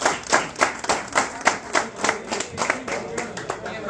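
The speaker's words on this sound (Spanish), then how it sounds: "Y ese es un aplauso todito." A crowd claps and applauds for a champion softball team at their awards celebration, steady rhythmic hand claps that swell in pulses, with some voices mixed in the background.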